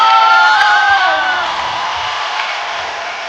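A studio audience on a comedy show cheers and whoops loudly for Sunita, with shouting voices and a whistle-like tone over a sustained crowd roar that gradually eases.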